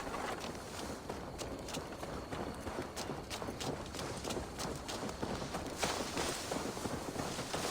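Horse hooves clip-clop steadily in Assassin's Creed Valhalla, a regular rhythmic walk over a dense background wash, fairly quiet, with no talking.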